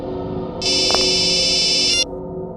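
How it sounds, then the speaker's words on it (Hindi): A phone ringing: a bright electronic ring bursts in over a low steady background hum, lasts about a second and a half, then cuts off. "बॉस, आपका फोन है।"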